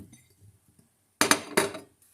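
Metal utensil clinking against a pot while stirring vegetables for a Moroccan chicken tajine: two sharp, bright scraping clanks close together after a quiet stretch of soft shuffling.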